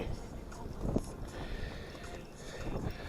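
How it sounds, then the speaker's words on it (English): Strong wind gusts across a lake during a kayak fishing outing, a steady broadband rush of wind buffeting the microphone with faint water movement, loud and continuous throughout. "the wind is really blowing really hard"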